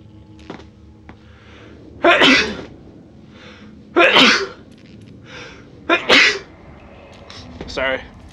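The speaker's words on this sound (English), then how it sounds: "I'm about to sneeze in a second" Four loud, close sneezes at roughly two-second intervals from someone playing the horror game Outlast, each a sharp burst with quiet room noise between.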